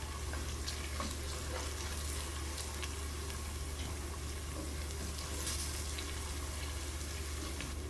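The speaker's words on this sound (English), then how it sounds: "Stir fry for a minute." Turmeric, salt, red chili and coriander powder are stir-fried in a pan, giving a steady, close sizzle with a soft hiss and occasional faint stirring scrapes throughout.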